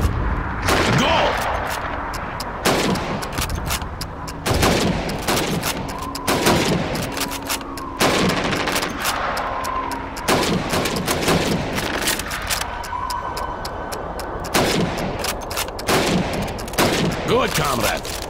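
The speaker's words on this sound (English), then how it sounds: "You have 15 seconds to shoot the helmets." Rifle shots at helmet targets during Red Army training in Call of Duty 2, loud sharp reports spaced every second or two across the run, with faint background voices and battle ambience between them.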